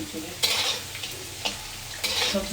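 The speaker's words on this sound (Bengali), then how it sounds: "এখন এই কাঁকরোলগুলো ভেজে নিই" Slices of teasel gourd (kakrol) sizzle in hot oil in a pan, a steady close frying hiss broken by a few sharp stirring scrapes.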